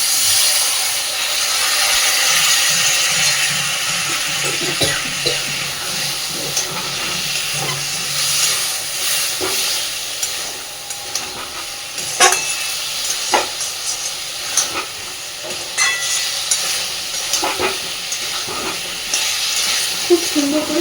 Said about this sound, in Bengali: মশলা যাতে পুড়ে না যায়, আমি মিক্সির বাটিটা ধুয়ে সামান্য একটু জল দিচ্ছি